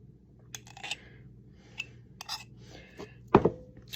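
Light clinks and taps of a utensil against a dish while crumbly, slightly dry chèvre is mixed in, scattered and close, with a sharper louder knock near the end.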